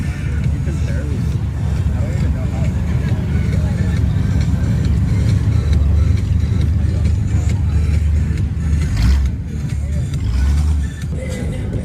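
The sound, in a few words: loud Mustang driving past at car meet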